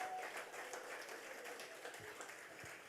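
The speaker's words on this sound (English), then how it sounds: "Give them a round of applause." Applause at a Saint Lucia Labour Party conference of delegates, greeting the party candidates, executive and National Council, a dense wash of many hands clapping steadily across a large hall, fairly faint and distant throughout.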